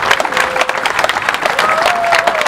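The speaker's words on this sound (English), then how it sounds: "So a big round of applause for the Loughmacrory St." At an outdoor volunteers day parade, a crowd applauds Loughmacrory St. Teresa's Football Club with loud, dense clapping and some cheering, while faint whistle-like tones rise above the steady round.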